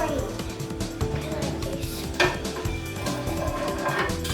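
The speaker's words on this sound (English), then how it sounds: "this is just going to stir that this up so it doesn't get burnt" Noodle stir-fry stirred in a hot pan for a Chinese New Year meal, with repeated clinks and scrapes of a utensil against metal and a louder knock midway, fairly close and moderately quiet.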